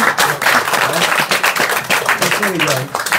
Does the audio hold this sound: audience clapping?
yes